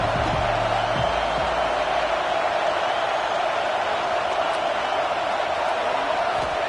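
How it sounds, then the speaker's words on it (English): Football stadium crowd roaring as a steady, dense wall of noise throughout, loud and continuous with no distinct claps or chants standing out. "This crowd ready to make its presence known."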